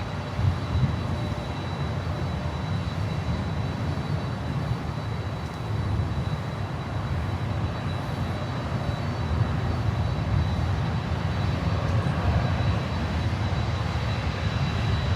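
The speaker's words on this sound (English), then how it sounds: "we go over to Sky High Cargo, 737-300 freighter, ex-West Air Sweden." Jet engines of a Sky High Cargo Boeing 737-300 freighter roar steadily at Miami airport, a loud, continuous broadband rumble and whine with no talking.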